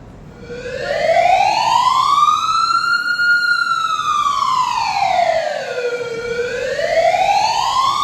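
An emergency siren wails in long, slow rising and falling sweeps, loud and continuous, with no other sounds over it.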